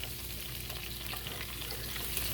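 Garlic and butter sizzle softly in a pan on low heat for shrimp scampi, a quiet steady frying hiss with light stirring scrapes, no talking.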